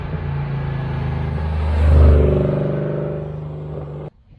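A Ford Coyote V8 engine from a 2015 Mustang revs up, its deep rumble swelling to a peak around the middle, then holding before cutting off abruptly, heard close and alone.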